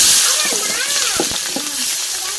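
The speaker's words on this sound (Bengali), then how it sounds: "এবার মাংসটা রান্না করবো। সে কারণে কিন্তু তেলে পেঁয়াজ আর কাঁচা লঙ্কা দিয়ে দিচ্ছি।" Sliced onion and green chili tossed into hot oil for a meat dish, crackling steadily up close while a person talks over the cooking.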